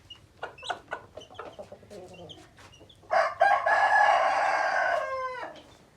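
A rooster on a farm in a flock of many breeds gives some short clucks, then lets out a loud, close crow of about two seconds that trails off into a faint tail.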